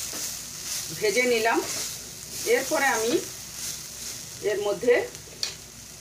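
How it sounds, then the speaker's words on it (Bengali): Grated raw papaya fries in a hot pan with a steady sizzle and occasional stirring scrapes, while a voice talks intermittently over it. "পেঁপেটাকে আমি 2 মিনিট ভালো করে ভেজে নিলাম।"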